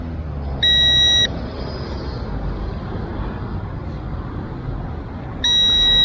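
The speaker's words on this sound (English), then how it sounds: "I'm not exactly sure why the controller is beeping at me now" An Eachine E520S drone remote controller gives two high-pitched electronic beep bursts, each about half a second long and several seconds apart, loud and close over a steady background hum.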